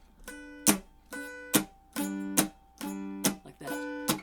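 Mountain dulcimer chords strummed in a steady swing rhythm with palm muting, each bright chord cut short by a damped thump, about eight strums played close and alone.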